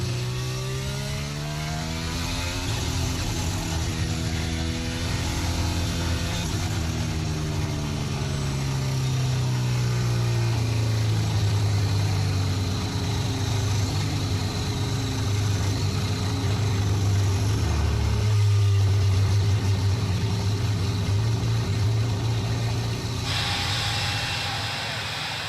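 A racing car engine runs rough after leaving the pits, a loud, sustained drone with its pitch sliding downward then holding low and uneven, close and continuous with no talk over it.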